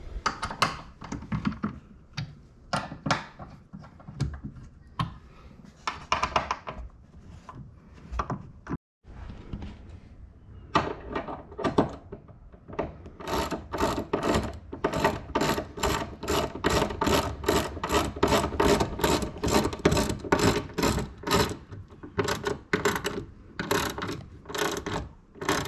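Rapid repeated clicking and ratcheting as a ratchet tightens 5mm bolts on a Jeep JLU Goose Gear gear plate, starting in irregular bursts, then settling into a steady run of sharp, close clicks.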